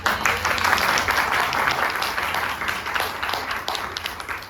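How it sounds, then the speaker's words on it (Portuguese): Audience applause at a book talk celebrating the Portuguese-language book Latim em Pó, a steady, dense clapping that stays loud for about four seconds and tapers slightly at the end. "Palmas para o Latim em Pó!"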